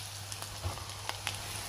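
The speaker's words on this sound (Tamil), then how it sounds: "நாங்கள் அந்த வெட்டி வச்சிருக்கிற வாழைக்காயையும் சேர்த்து நல்லா வதங்க விடணும்." Sliced ash plantain frying with onions in a pan for a Sri Lankan curry, giving a faint, steady sizzle with a few soft crackles and pops and no one talking.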